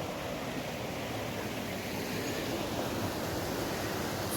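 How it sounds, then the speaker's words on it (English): Rushing water of a rainforest waterfall, a steady broadband roar that stays even and unbroken throughout, with no speech. "You guys hear the water?"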